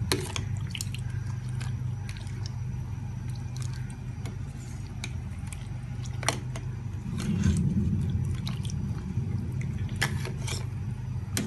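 Homemade pineapple drink simmering at a full boil in a pot, a steady low bubbling rumble with scattered drips and clicks, swelling louder midway, with no talk over it.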